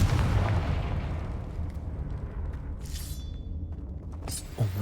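A Confringo blasting curse goes off in the Hogwarts Legacy game, a loud, broad explosive boom at the start that rumbles and fades over several seconds, with a second burst near the end.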